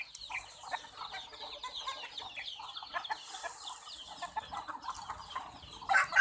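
Chickens cluck and chatter in a busy flock while being fed rice, many overlapping calls at close range, moderately quiet with a louder call at the end.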